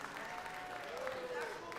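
An audience at a city council meeting breaks into a short burst of clapping, with a voice talking over it.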